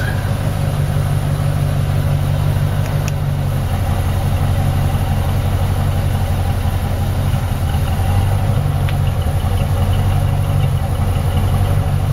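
A 1986 Mercury Grand Marquis engine idles steadily with a deep, continuous low rumble from the exhaust, close by and unchanging throughout.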